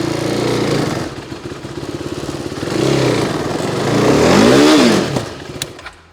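A 400cc braaap Moto4 sport motorcycle engine revs close up in a workshop, buzzing steadily with blips and one strong rising-and-falling rev near the end.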